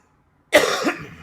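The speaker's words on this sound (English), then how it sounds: "I don't know why I'm coughing." A single sharp cough bursts out close by after silence, trailing off quickly.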